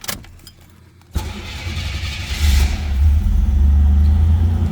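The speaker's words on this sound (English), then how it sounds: "Let's go ahead and fire this up." A 1985 Buick Grand National cranks briefly and fires up, its engine catching with a sudden loud onset and settling into a steady, rising idle rumble close by, with no talking.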